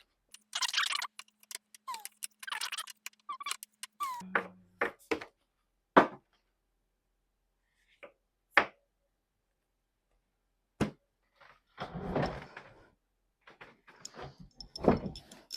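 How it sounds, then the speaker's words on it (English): Tarot cards being shuffled: crisp papery riffling and slapping in bursts, with scattered sharp taps and pauses between, close by with no talking. "I'm just going to give this a little shuffle"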